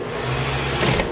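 A sewing machine stitches in a steady, continuous whir, close and alone, with a slight rise in pitch near the end.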